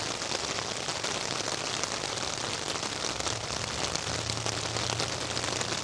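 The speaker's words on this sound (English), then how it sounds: "you can hear it raining" Steady, dense rain patters on a tarp close by, a continuous hiss of drops with no voices.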